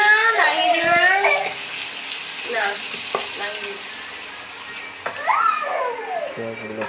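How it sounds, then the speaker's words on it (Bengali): Onions sizzle and crackle in oil in a pan (kadai) as an egg curry is cooked, a steady hissing fry under a person talking, with a stirring scrape or clatter now and then. "পেঁয়াজগুলো সুন্দর করে ভাজছে।"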